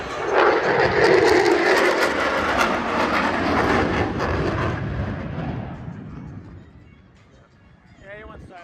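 An F-16 Fighting Falcon jet passing at an air show, a loud broadband roar swelling then fading away over several seconds, with a commentator's voice on the loudspeaker over it.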